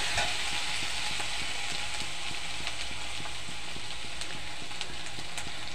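Chopped onion frying in a pan gives a steady, close sizzle, broken by repeated spatula scrapes and taps as it is stirred.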